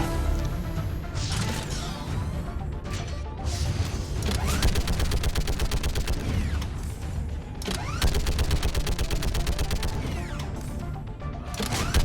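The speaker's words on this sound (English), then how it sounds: "So now I've got to go be a fixed turret gunner" A fixed turret gun fires in Mass Effect 3, long streams of rapid, evenly spaced shots in repeated bursts, loud and close, with booming impacts between volleys.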